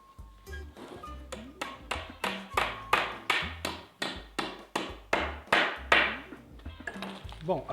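A hammer drives hammer-in frame plugs to fix a wooden wall batten: a steady series of about sixteen sharp, close strikes at a regular pace, each ringing briefly.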